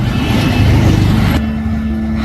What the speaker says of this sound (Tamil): இந்த பஸ்ஸு தாங்க 6 முருகன் கோயிலுக்கு போகுது